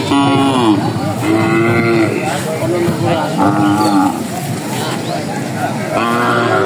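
Cattle at a village cattle market before the Qurbani festival, with several loud, drawn-out moos repeating close by over a busy backdrop of crowd chatter and voices.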